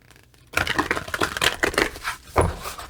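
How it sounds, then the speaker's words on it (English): A rapid flurry of crisp, papery flicks and riffles, close and fairly loud, running for a couple of seconds after a quiet start, then a final soft slap. "You got to shuffle from the side, shuffle from the side."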